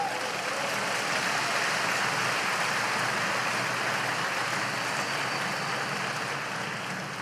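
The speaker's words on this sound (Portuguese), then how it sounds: "Pode aplaudir." Congregation applauding during a church sermon, a steady dense wash of clapping that sounds rain-like and fairly distant, holding evenly for several seconds with no speech over it.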